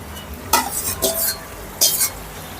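Chicken stirred into a curry gravy in a pan, a few loud wet scraping strokes of a spoon against the pan separated by quieter gaps, close by and with no voices.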